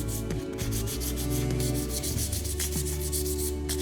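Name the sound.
sanding painted trim with 400 grit sandpaper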